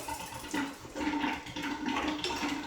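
Rinse water from cleaning a Capralite milking machine is poured from a bucket down a drain, a gushing, gurgling rush in uneven surges, fairly close and alone.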